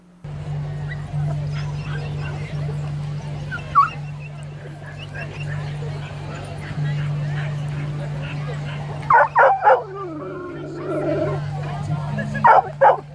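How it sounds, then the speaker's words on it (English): Several dogs bark and yip at a busy RSPCA Million Paws Walk charity dog walk, short sharp bursts near the end over a steady low hum and crowd babble, with people talking in the background. "There were so many dogs there, queuing."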